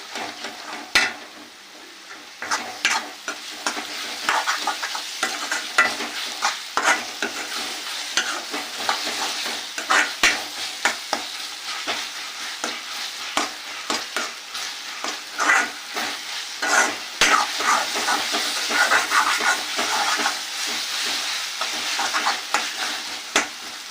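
Ginger paste is stirred and fried in a pan for an egg curry, giving a steady sizzle broken by frequent scraping spoon strokes. It runs close and continuous throughout with no talk.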